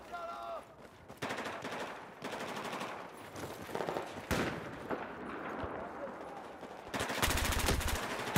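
Rapid bursts of AS Val suppressed rifle fire in a Battlefield 4 Gun Master match on Noshahr Canals, with several short automatic volleys and a denser, louder burst near the end amid other battlefield gunfire.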